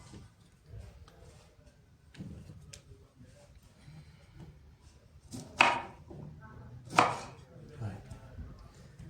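A knife taps and chops through a lemon on a cutting board, quartering it, with two sharper, louder cuts standing out over quiet background noise.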